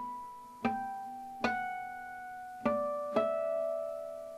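A guitar plays a slow passage of bell-like natural harmonics. Four clear plucked notes ring and overlap softly and sustain between attacks, with no talking.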